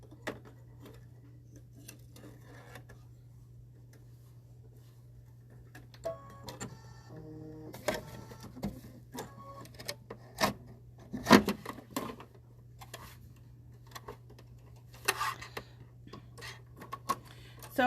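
An embroidery machine stitching a satin stitch in black thread runs with a steady low hum and scattered quick mechanical ticks and clicks, fairly quiet and close, with brief louder clatters.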